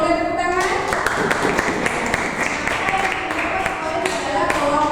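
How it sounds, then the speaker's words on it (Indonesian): Schoolchildren in a classroom clap for their group's correct math answer, a busy mix of claps, taps and thumps under overlapping children's chatter and an adult voice. "Kelompok 1 benar, boleh tepuk tangan"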